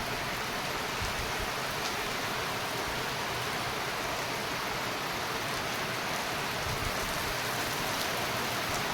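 Heavy rain pours down steadily, a dense, loud hiss of drops drumming on surfaces with no break, and no voices.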